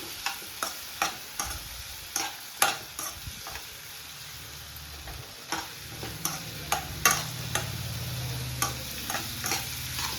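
Ingredients fry in a pan for a peanut roti chutney, with a soft continuous sizzle under repeated sharp clinks as a spatula strikes the pan in an irregular stirring rhythm, and no talking.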